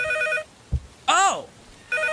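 Telephone ringing in a scary video game: repeated electronic ring tones in two bursts, bracketing a sharp voice exclamation, fairly close and clear.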